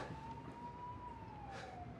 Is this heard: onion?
no